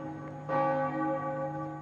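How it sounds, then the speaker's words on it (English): Amiens Cathedral church bells strike noon, a sustained ringing tone with a sharper new stroke entering partway through, loud and resonant with no voices present. "the bells in Amiens Cathedral began striking 12"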